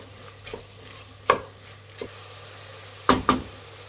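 Chopped mint and vegetables being stirred in a pan for veg biryani: several separate scraping strokes, a double stroke near the end, over a faint, steady sizzle, with no voices.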